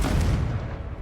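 Confringo fire spell in Hogwarts Legacy, a loud close explosive boom with a dense low rumble that fades quickly.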